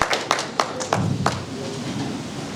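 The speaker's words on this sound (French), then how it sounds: "Merci, ça s'applaudit s'il vous plaît." An audience at a JIEC 2025 event claps in a few sharp, scattered bursts, moderately loud, with a faint voice in the background.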